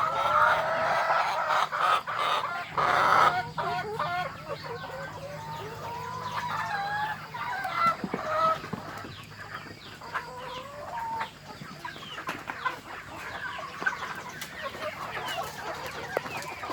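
A flock of laying hens clucks and squawks continuously at close range during feeding, with overlapping calls and occasional louder cries, and no talking.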